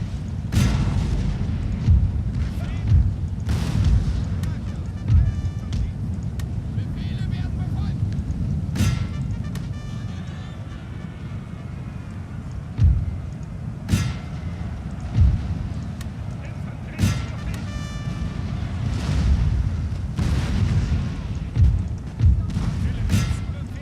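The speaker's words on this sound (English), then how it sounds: "so I can get some grape shot on these units over here" Grapeshot cannon volleys in the 1805 European Campaign game, booming artillery blasts and thuds firing at irregular intervals over a rumbling battlefield din, with a voice talking now and then beneath the shots.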